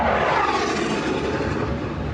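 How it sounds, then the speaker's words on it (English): Russian military planes fly overhead during bombing over Russian territory in the Kursk region, a loud continuous engine roar that stays steady throughout with no voices. "Russian planes bombing Russian territory, targeting Ukrainian troops."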